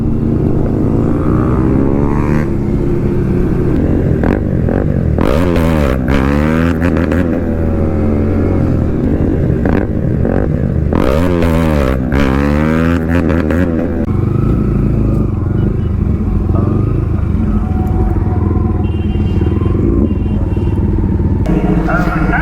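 Kawasaki ZX-10R sport motorcycle on a public road, engine droning loud and close throughout with repeated rising revs and gear shifts, road and wind noise mixed in, and people talking over it.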